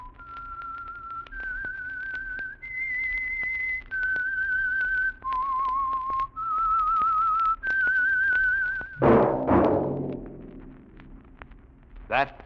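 A solo whistled theme tune for The Whistler radio show, a clear melody of held notes stepping up and down, followed by a brief burst of louder sound at the end.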